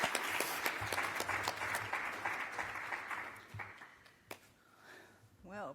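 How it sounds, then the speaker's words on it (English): Clapping for attendees at the Progeria International Scientific Workshop, a scattered round of applause from a modest group that builds, then thins out and dies away, followed by a few isolated sounds and a voice near the end. "now I'm going to clap for you all"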